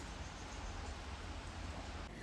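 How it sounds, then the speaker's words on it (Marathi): Rain falls outside as a steady, faint broadband hiss, unbroken and even for a couple of seconds with no other distinct sounds. "आता बघा पाऊस लागतो."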